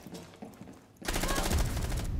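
Rapid automatic gunfire bursts out loudly in a video game and runs as a dense stream of shots, following a quieter stretch of softer, scattered shots.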